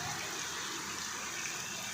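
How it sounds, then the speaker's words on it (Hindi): Torrential rain pours down on a street flooded like a river, a dense, continuous roaring wash of water that stays steady throughout. "इतना शोर है बारिश का,"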